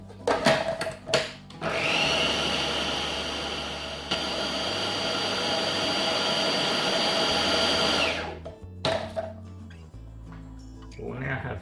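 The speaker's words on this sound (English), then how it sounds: "And we'll carry on blitzing." A kitchen blender whirs loudly for about six seconds, blitzing doner kebab meat mixture with garlic puree, a steady high-pitched motor roar with brief clunks before and after as it starts and stops.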